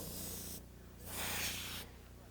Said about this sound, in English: the reason I'm spraying into this rag is because I'm trying to clean out all my colors